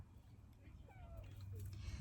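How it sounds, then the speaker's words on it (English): A pet cat in a rose garden gives a brief, faint meow over a low outdoor rumble, with a second soft mew trailing just after. "Here's the kitty."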